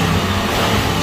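An engine on a Forest River Sunseeker RV runs steadily right after starting off a jump start, a close, continuous low rumble with no speech.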